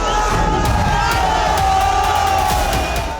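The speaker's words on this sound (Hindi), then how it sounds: "भीड़ यहाँ पर उग्र होती हुई दिखाई दे रही है" Agitated crowd forcing its way through iron barricades, a dense continuous roar of shouting and chanting voices with metallic clanks and bangs scattered through, close and loud.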